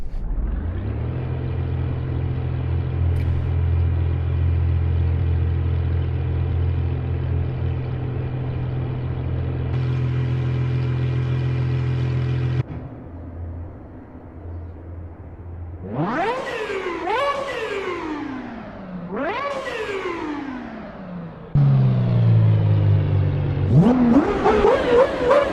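Video game car engine, first a long steady idle rumble with a gear-change shift, then several sharp revving sweeps rising and falling in pitch, loud and close, ending with a harder rev.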